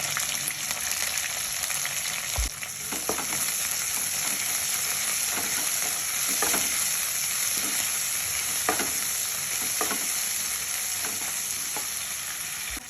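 Curry leaves and coriander sizzle in hot oil in a pan, a constant loud frying hiss broken by repeated scraping and clacking of a spoon as they are stirred.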